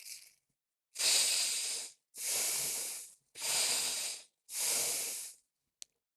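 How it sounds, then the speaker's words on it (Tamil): Four long, deep breaths drawn in and let out slowly during a breathing exercise, each a loud, close, airy rush lasting about a second with short silent gaps between them. "ஒரு 3 முறை மூச்சை உள்ளெழுத்து மூச்சை வெளியே விடுங்க"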